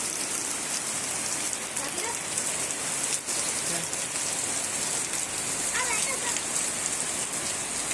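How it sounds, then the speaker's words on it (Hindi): Heavy rain pours down in a park, a dense, loud, continuous hiss of drops striking surfaces that holds steady throughout, with faint voices in the background. "बहुत तेज़ बारिश हो रही है"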